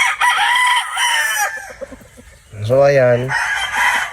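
A six-month-old Boston straight comb rooster crows once, loud and close, its call rising and falling for about a second between stretches of someone talking.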